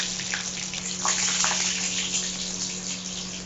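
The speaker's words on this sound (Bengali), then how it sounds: "এবার যে জলটা বার করা হয়েছিল ছেঁকে, সেই জলটা দিয়ে দেবো, পাতাটা নয় কিন্তু জলটা দেবো।" Strained cooking water from greens being poured into a pan with green chilli paste, a steady close pouring gush with slight splashing, no voices.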